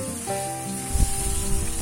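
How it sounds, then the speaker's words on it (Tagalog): Ground pork drops into a pan of sautéed onions and sizzles loudly, a steady broadband frying hiss that swells as the meat lands, with no talking. "At kapag nagisa na natin yung ating bawat sibuyas, ayan, ilalagay na natin yung ating pork giniling."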